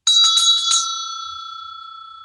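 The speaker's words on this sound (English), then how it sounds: "this is a bell that I use for sound clearing" A small handheld bell is shaken in a quick burst of bright ringing strikes for sound clearing, then a single clear tone lingers and slowly fades with a gentle shimmer, close and alone.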